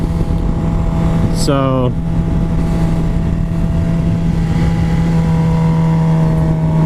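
A Suzuki GSX-R750 sport motorcycle is ridden at a steady pace, its engine a constant, loud droning hum with a brief rising whine early on; a voice says a single word near the start.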